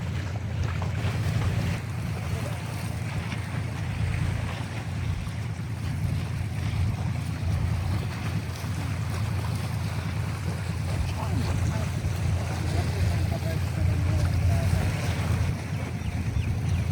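Strong wind roars across the Corniche port in Qatar, a constant heavy rumble of gusts buffeting the microphone with water washing beneath, loud and unbroken throughout.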